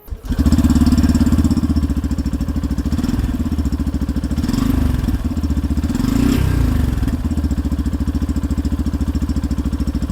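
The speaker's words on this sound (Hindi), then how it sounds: "एग्जॉस्ट नोट में आपको भी सुना देता हूँ।" A Yamaha FZ-S FI Hybrid 150cc motorcycle engine idles steadily up close, its low, even exhaust thrum pulsing with a slight rattle and a brief rev midway.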